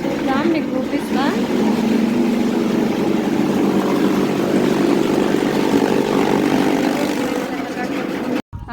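A chaff cutter machine chops fodder stalks with a loud, continuous motor drone that holds steady for several seconds; voices talk over it.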